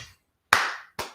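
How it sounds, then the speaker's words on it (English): Three sharp hand claps spaced slowly and unevenly, close and loud with a short room echo after each, the last two coming quicker together. "Let's give him a slow clap."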